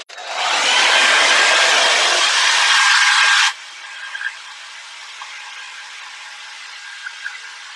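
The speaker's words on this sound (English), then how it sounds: "We can use our hair dryer to make it dry faster." A hair dryer blows loud and steady at close range over a watercolor painting for about three seconds, then switches off, leaving faint rustles and small taps.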